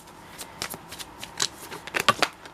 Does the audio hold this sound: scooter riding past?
no